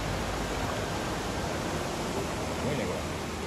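A waterfall swollen with spring snowmelt near Ashibetsu, Hokkaido, roars as a steady, dense broadband rush of falling water, unbroken and close for the whole stretch, with no voices.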